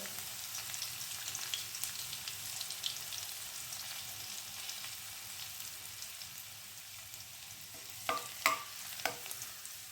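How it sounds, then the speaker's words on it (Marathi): Garlic and turmeric fry in hot oil for a stuffed karela dish, a steady close sizzle running throughout with a few sharper crackles and pops near the end, no voices. "तर तेल आपलं गरम झालंय. आपण यामध्ये लसूण घालायचे."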